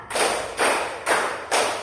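Group of participants clapping in a counted clapping game, four loud, evenly spaced claps about half a second apart, close by with no talk.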